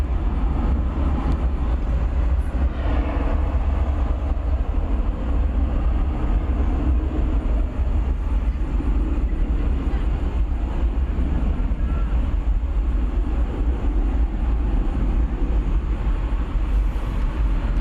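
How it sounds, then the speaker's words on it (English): Airbus A380 taking off at night at Dallas/Fort Worth airport: a steady, broad, heavy roar that holds at constant loudness for the whole stretch, with no talking. "So we'll be able to complete our assignment tonight of presenting you with 2 A380 takeoffs"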